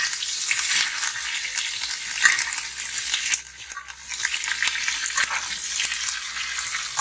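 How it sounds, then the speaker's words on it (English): Steak sizzling loudly in a hot pan while being basted with butter, garlic, thyme and rosemary, a continuous bright hiss with crackling spatter and a brief dip midway, close and with no talking. "And now it's time to get to the basting."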